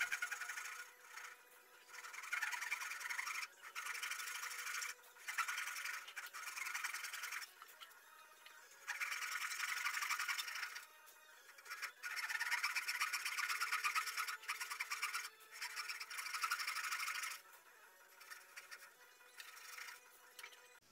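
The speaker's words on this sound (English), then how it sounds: "In this shot, I'm using an even finer Japanese style pole saw. It's got a very thin kerf and very sharp teeth." A fine Japanese-style pull saw with a thin kerf and very sharp teeth cuts particle board in repeated rasping strokes with short pauses between runs, close but fairly quiet, with no talk.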